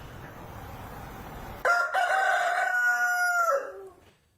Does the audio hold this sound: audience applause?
no